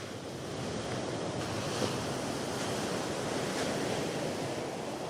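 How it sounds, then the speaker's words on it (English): Ocean waves crash and churn against a rocky shore in a steady, loud roar of surf, with some wind rumble and no voices. "while waves crash overhead"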